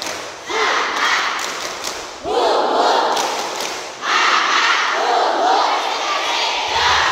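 Group of people doing a 'tepuk semangat' clapping cheer during an ice-breaking session, three loud bursts of rhythmic claps mixed with chanted shouts, separated by short gaps.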